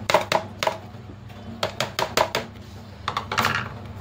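A knife chops a single green pepper on a board: three quick cuts, a pause, then two bursts of three or four rapid knocks, close and fairly crisp, over a steady low hum.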